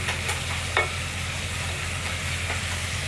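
Tomato and ginger sizzle quietly in a pan for sinigang with salmon belly, a soft steady frying hiss with a couple of brief scraping stirs and clicks.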